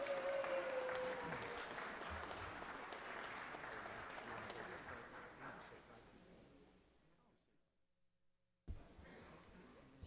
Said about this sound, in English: let's give a round of applause for Ms. Dorothy Dot Benson.